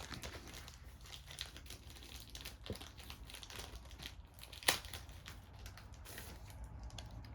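A plastic bag crinkles close by as board game pieces for Wonder Woman: Challenge of the Amazons are packed into it, with rustling, crackling bursts and one sharp crunch, quiet overall.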